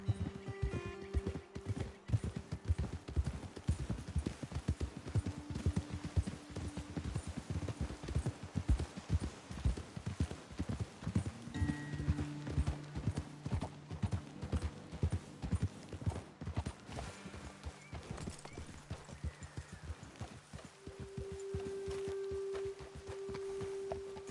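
Horse hooves clip-clop steadily on a trail in Red Dead Redemption 2 as riders travel at a walking pace, a continuous rhythmic beat set over a quiet game soundtrack with no talking.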